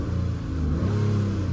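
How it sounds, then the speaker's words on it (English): Nissan Maxima engine being revved, a steady mid-level rumble that climbs in pitch partway through as the throttle opens, fairly close and alone without talk. "So right now I'm gonna rev up the gas so you can see the RPM on here"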